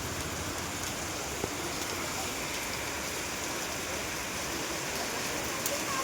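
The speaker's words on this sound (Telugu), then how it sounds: "ఏం చేస్తాం చూడండి, ఇట్లా వర్షం వస్తుంది ఫుల్గా" Heavy rain pours down steadily on Baripada village in Odisha, a dense, even hiss of drops on surfaces that runs unbroken and fairly close, with no speech over it.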